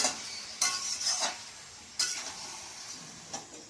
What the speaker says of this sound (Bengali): একটু মাংসটা ঢাকা দিয়ে রেখেছিলাম, আবার একটু কষিয়ে নাড়িয়ে নেব।